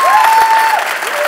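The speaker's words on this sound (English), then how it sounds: "Let's give them a round of applause. Come on, louder, louder, louder" A church congregation gives a loud, sustained round of applause at a Sunday service, dense clapping throughout with a thin tonal whistle or feedback line running over it.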